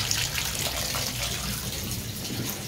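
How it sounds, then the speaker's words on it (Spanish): Hot water gushing from a tap fed by a newly installed gas boiler, the first flow coming out dirty from the lines, a steady close splashing rush with a faint voice underneath. "Ahí está saliendo ya lo que va a ser el agua caliente."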